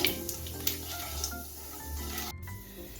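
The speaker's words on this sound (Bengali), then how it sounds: "কালো জিরাটা আমি একটু ভেজে নিচ্ছি" Black cumin seeds fry in three tablespoons of hot white oil in a wok (kadai), giving a steady close sizzle with faint stirring scrapes throughout.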